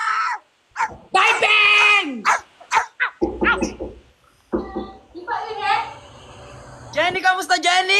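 A dog barks in several sharp, loud bursts, mixed with excited human voices and chatter nearby.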